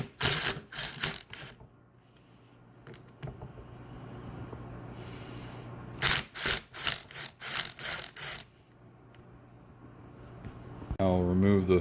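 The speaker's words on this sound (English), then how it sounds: "I have my 1/2-inch socket on my driver, and here we go" A driver with a 1/2-inch socket loosens bolts on the front differential of a 2006 Polaris Sportsman 500 EFI, giving short bursts of harsh buzzing rattle, close and loud, separated by quieter gaps.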